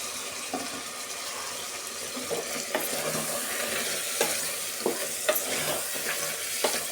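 Ground masala being stirred into chicken in a pressure cooker: a soft sizzle under repeated sharp scraping and clinking ladle strokes against the metal pot, spaced irregularly and close up, with no talk.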